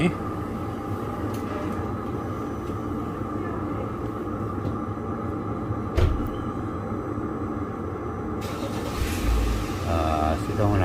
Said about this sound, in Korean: 시동을 한번 걸어 봅시다